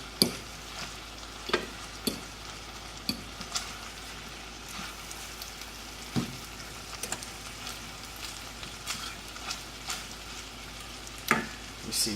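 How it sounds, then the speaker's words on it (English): Food stirred and mixed in a sizzling pan for a high-protein meal, with a steady fry hiss under repeated scraping, clattering strokes of the utensil at an irregular rhythm, close and moderately loud. "Now mix all of this in."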